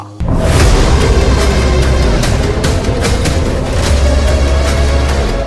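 A loud, continuous roar of heavy booms and rumbling blasts from missile explosions, dense and overwhelming, with no pauses throughout.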